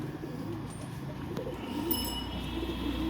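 Pigeons coo softly in a home coop, low rolling calls close by against a faint steady background hum.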